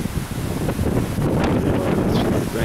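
Strong gusts of wind buffet a Mini Winnie motorhome during a wind storm in Laughlin, Nevada, making a loud, continuous roar with rumbling microphone wind noise.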